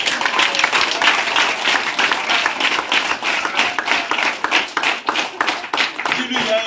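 A church congregation claps and cheers in praise, dense rhythmic applause filling the room with shouting voices mixed in throughout.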